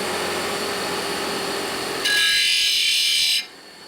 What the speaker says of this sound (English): so I just do it with a grinder.